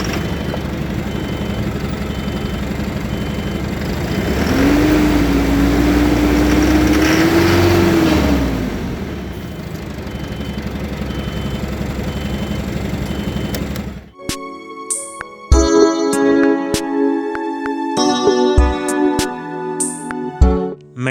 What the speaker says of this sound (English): Let's start the engine and hear its sound.